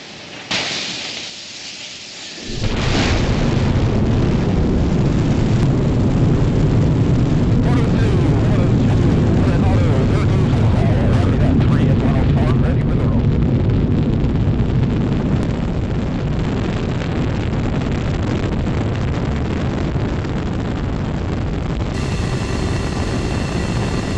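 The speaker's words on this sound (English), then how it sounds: "You saw those main engines light." Space Shuttle Endeavour's main engines ignite and roar through liftoff, a sudden, sustained, overwhelming rumble that stays loud and steady for over twenty seconds.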